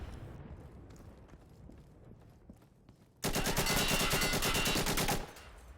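Gunfire in a PvP shooter video game: a loud sustained burst of rapid automatic fire lasts about two seconds, after a quieter stretch of scattered distant shots.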